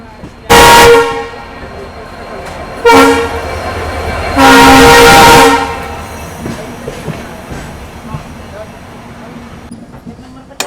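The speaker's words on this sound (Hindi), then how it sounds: "फाइनली अपना डिपार्चर हो चुका है गुवाहाटी रेलवे स्टेशन से" A train horn sounds in two long, loud blasts as the Agartala Tejas Rajdhani departs Guwahati railway station, then a steady rumble of rolling wheels carries on as the train pulls away.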